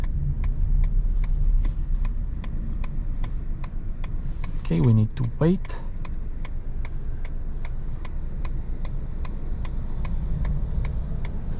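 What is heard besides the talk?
car turn indicator ticking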